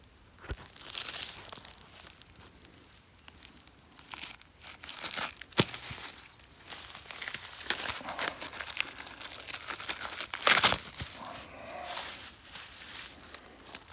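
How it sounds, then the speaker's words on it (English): Plastic wrapping is pulled and torn off a deer feeder outdoors, with irregular crinkling, ripping and rustling bursts, some sharp and close, between quieter moments. "we're going to take the plastic off and drop it"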